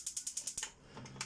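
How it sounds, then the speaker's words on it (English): Gas igniter on a Burstner Argos 747 motorhome oven, snapping in a rapid, even train of about six sharp clicks, close up, then a brief pause before another click. "So you've got this igniter here."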